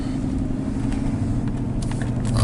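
Dodge Hemi V8 idling after a long warm-up, with a steady low rumble and a faint light ticking running through it, close and continuous with no talk.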